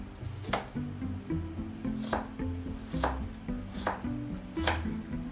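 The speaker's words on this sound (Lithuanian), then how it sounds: "Ir morką supjaustysim plonais šiaudeliais." Knife chopping a carrot into thin strips on a board for a Lithuanian mushroom meat roll, in a steady run of crisp, close cuts repeating every half second or so, with faint background music.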